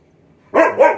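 A husky dog gives two quick, loud barks close by, following a brief near-silent moment.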